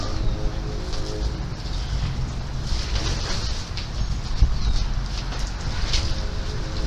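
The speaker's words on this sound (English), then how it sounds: "kind of windy out here, Israel." Steady wind rushes and buffets continuously outdoors, a broad low roar with no clear talk.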